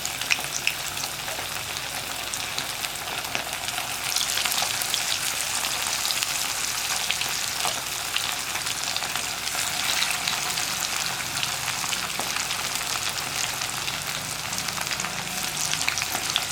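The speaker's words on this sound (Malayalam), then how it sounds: "ഇനി ലോ ഫ്ലെയിമിലിട്ടിട്ടാണ് ഫ്രൈ ചെയ്തെടുക്കുന്നത്." Chicken frying in hot oil over a low flame, a steady, dense sizzle and crackle that holds evenly throughout, close and alone with no voices.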